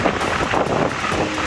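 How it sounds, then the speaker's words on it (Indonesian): Strong wind buffeting the microphone at Merak harbour in Cilegon, Banten, during rough weather with big waves, a loud continuous roaring gust with no voices. "Angin kencang serta ombak besar membuat kapal yang akan bongkar muat di pelabuhan oleng dan kesulitan bersandar di dermaga"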